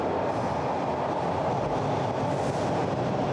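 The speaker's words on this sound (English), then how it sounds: "you can see the subway coming in now." A Toronto subway train rolls into the station, a loud continuous rumble of wheels and carriages with faint clatter, close by and without talk.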